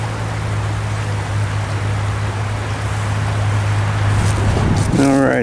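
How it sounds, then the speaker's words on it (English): Water rushes steadily over rocks outdoors, a continuous hiss that holds for the whole stretch, with a low droning hum underneath, likely from nearby traffic. "You hear the water rushing through the rocks."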